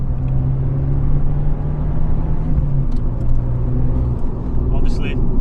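A salvaged, vandalised Abarth 595 with a 1.4 engine pulls in third gear, giving a steady, loud engine drone with a low hum that shifts pitch partway. Road rumble sits underneath, and someone talks over it.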